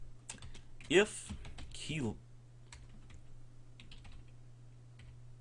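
Keystrokes on a computer keyboard while typing in Word: a quick, quiet flurry of clicks, then a few scattered taps over a low hum, with a brief spoken word.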